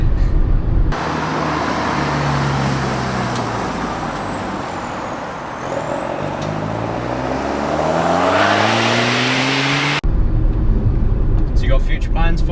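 A diesel Skoda Octavia vRS accelerates hard, its close, loud engine drone climbing steadily in pitch through the gears before cutting off abruptly near the end.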